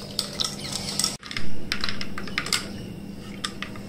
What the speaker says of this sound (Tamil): எல்லாத்தையும் சேர்த்து நல்லா கலந்தா நம்மளோட நன்னாரி சர்பத் தயார்